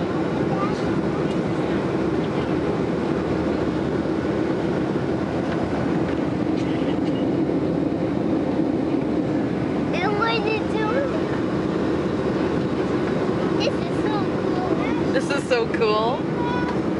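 Steady, loud engine drone fills an airplane cabin throughout, with a few brief chirpy voices and small sounds rising over the constant roar.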